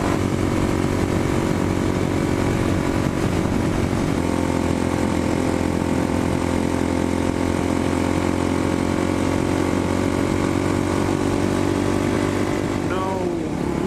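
A Kawasaki Ninja 400 motorcycle rides through a couple of turns, its engine a loud, steady drone from onboard with wind roar, the pitch rising toward the end, and a rider talking over it.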